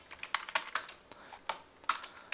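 Quiet, close typing on a computer keyboard as a short layer name is entered, about ten crisp key clicks in an uneven rhythm with small gaps, no voices.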